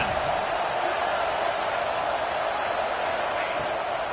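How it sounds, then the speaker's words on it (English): Stadium crowd in the College Football 26 video game, a dense, steady roar of cheering filling the whole span at constant loudness, with commentary faintly in the mix. "Listen to this crowd just shaking the girders of this place,"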